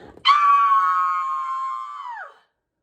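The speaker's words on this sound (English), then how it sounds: "Then she screamed," A narrator reading a children's story aloud performs a girl's scream, a single sustained high 'ah' that holds for about two seconds and then drops off sharply into silence.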